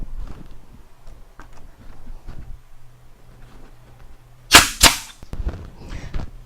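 Brad nailer driving brads into wood for a mason jar chandelier build: two sharp, loud pneumatic snaps in quick succession, then a softer pop, against a quiet room hum.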